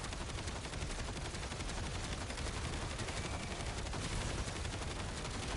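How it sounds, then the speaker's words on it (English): Continuous automatic gunfire in Black Ops 7, a dense unbroken stream of rapid shots at a steady, fairly quiet level with no pauses. "we're just not going to let off the trigger for as long as possible"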